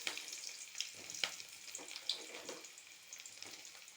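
Chopped onions sauté in hot oil after mustard seeds have popped. A steady, close sizzle carries scattered sharp crackles and pops throughout, with no voices.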